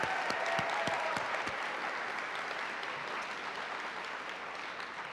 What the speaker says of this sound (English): And again, a round of applause for Mr. Hirsch and what he's done.